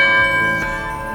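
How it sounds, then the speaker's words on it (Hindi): An ice-gola vendor's hand bell ringing in a street at night, heard as a sustained metallic ring with bright overtones, loud and close, decaying slowly over a brief moment. "गली से वही घंटी की आवाज"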